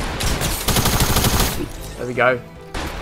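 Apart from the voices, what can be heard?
shotgun shots in a video game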